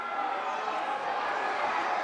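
Wrestling arena crowd stirring as a title change looms, a steady broad roar of voices and cheers held at moderate level throughout, fairly distant and sustained.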